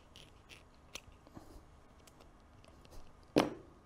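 A single crisp snip of scissors cutting a forensic gel lifter close by, preceded by a few faint clicks and handling noises.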